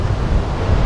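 Sea waves wash in on a rocky shore with a brief, dense surf rush mixed with gusty wind buffeting the microphone.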